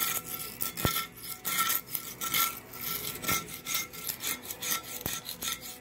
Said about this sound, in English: I'll start scraping and you'll see how this paint just comes right off.